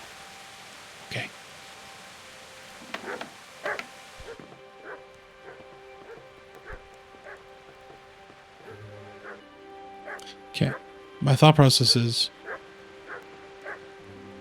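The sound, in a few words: dogs barking in the video game Kingdom Come: Deliverance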